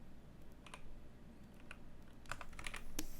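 Computer keyboard keys clicking during 3D modeling work in Blender: a few sparse, soft key presses spread out, with a small cluster near the end, over quiet room tone.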